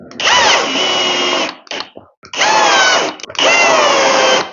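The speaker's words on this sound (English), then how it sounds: "We will then just pump those screws in." A power drill drives screws into a wall board in three loud, close bursts of whirring, each lasting about a second, with short pauses and small stuttering revs between them.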